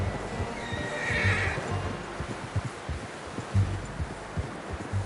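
A horse in the Red Dead Redemption 2 video game whinnies loudly while its hooves clip-clop in a steady walking rhythm, close up, with no talk.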